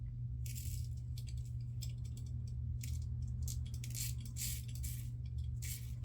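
Colorlamb Forester safety razor rattling lightly during a shave, a series of faint metallic clinks and jingles scattered across the clip over a steady low hum, close and quiet.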